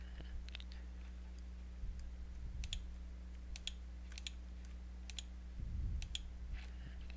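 Soft computer mouse clicks while working in design software for a plasma CNC sign, a scattering of faint, sharp taps spread across several seconds over a low steady electrical hum.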